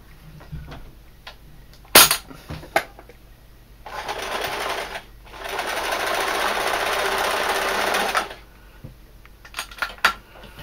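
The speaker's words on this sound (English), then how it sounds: "I'm going to sew it up and down" A sewing machine stitches a fabric trouser belt in two bursts of steady whirring, a short run and then a longer one, framed by sharp clicks and handling knocks.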